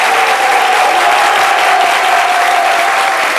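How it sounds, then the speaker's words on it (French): A studio audience gives sustained applause on a French midday broadcast honoring a playwright. The clapping is loud and continuous, a thick even wash that neither builds nor fades, with a faint tone running underneath. "à travers déjà ces applaudissements renouvelés"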